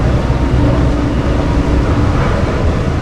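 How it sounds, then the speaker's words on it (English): Inside a moving passenger train in Europe, a loud, steady rumble and rattle of the carriage fills the space with no voices. "we just got on the train, headed for Valley Village"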